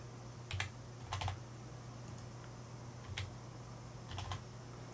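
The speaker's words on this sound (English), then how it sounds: "Might be easier to type it in." Fingers type on a computer keyboard in short bursts of quick clicks separated by pauses, quiet and close, over a low steady hum.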